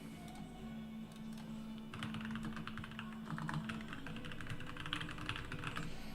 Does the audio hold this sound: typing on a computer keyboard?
yes